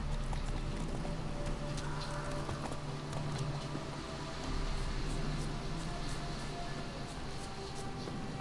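Roach the horse gallops in The Witcher 3, hooves drumming in a steady fast clip-clop under a dense wash of wind and ambient game noise, fairly loud and continuous throughout.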